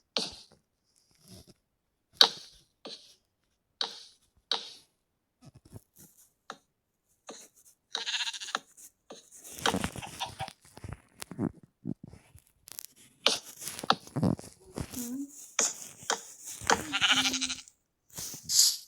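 Sheep bleating on a farm in the video game Minecraft: a series of short, separate bleats spaced across the clip, growing busier and overlapping toward the end, heard alone without talk.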